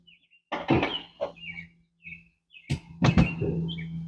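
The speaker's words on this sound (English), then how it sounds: "the birds are singing today" Short, high bird chirps sound intermittently in the background, mixed with several sharp knocks and clunks from nearby work installing coilovers on a 1998 Honda Civic.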